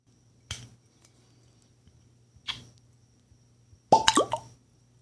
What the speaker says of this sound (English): So I'm going to open this red wax sealed bottle and get into it